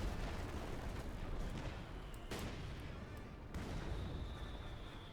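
Sector artillery barrage in Company of Heroes 2, heard as a faint, distant, continuous rumble of shelling with a couple of sharper impacts breaking through the steady low roar.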